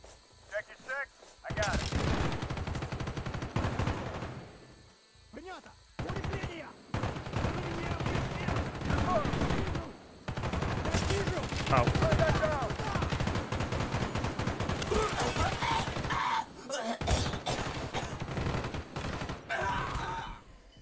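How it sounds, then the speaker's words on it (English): Sustained light machine gun fire from Call of Duty: Black Ops rattles in long, loud, dense bursts with brief pauses, mixed with other gunfire and explosions, while someone talks over it at times. "Oh, an LMG with like a thousand bullets."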